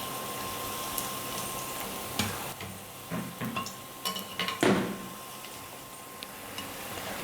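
Onion and potato bondas fry in hot oil, giving a faint, steady sizzle. Occasional ladle clicks and taps break through as the pieces are turned, with no voices present.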